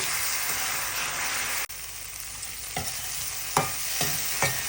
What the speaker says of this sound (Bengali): মশলাটা ভালোভাবে একটু কষিয়ে নিন